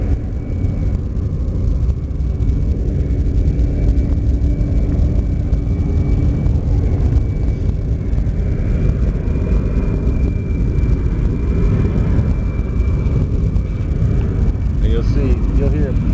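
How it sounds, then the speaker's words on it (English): A USAF C-17 at the Cocoa Beach Airshow flying slow with engines roaring, a steady loud low rumble throughout, with someone talking over it. "for him to maintain altitude, you will hear those engines fucking roaring"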